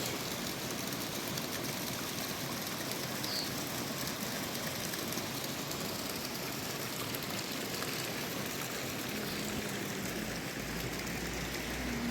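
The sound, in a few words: water spraying while washing a dirty car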